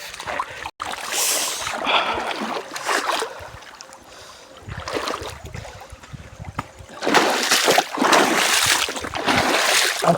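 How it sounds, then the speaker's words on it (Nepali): The Kosni river flows nearby, with rushing, splashing water that swells and fades in uneven bursts, loudest toward the end, with a brief sharp knock early on. "यो चाहिँ कोस्नी खोला हो"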